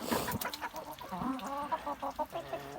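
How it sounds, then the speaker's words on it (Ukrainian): Young Amrock hens cluck softly and repeatedly nearby, with short murmuring calls overlapping in an uneven rhythm. "Молоденькі корочки амрокса журяться, але поки що ще не несуться."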